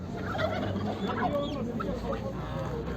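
Turkeys gobble amid other fowl at a poultry market in Çubuk, Ankara, a busy jumble of bird calls close by over a steady background of market murmur.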